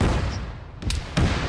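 Tank cannon fire in a WWII video game, two sharp heavy booms about a third of a second apart over a steady low rumble of battle noise.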